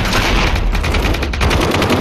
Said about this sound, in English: I'm hearing lots of shots